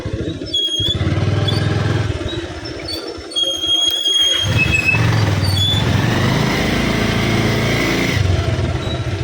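A motorcycle running low on fuel rumbles loudly and close while being ridden, its engine drone dipping briefly before surging back steady to the end.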